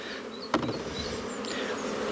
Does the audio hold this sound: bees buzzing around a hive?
yes